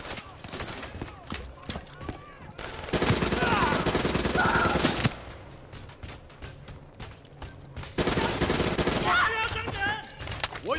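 Automatic gunfire in a Call of Duty Black Ops 3 firefight, rapid bursts rattling in two long loud stretches with scattered single shots between, sounding close, with voices and combat chatter mixed in.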